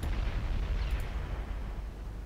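Naval gunfire strikes destroyers in the video game Ultimate Admiral Dreadnoughts, a dense, rumbling barrage of booming impacts rolling continuously with no clear gaps.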